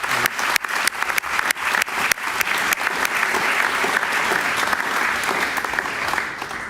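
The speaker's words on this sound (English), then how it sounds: "please give both of them a warm round of applause" Steady, full applause from an audience greeting speakers at a talk on the American constitution, with dense clapping carrying on throughout and a few sharper claps near the start.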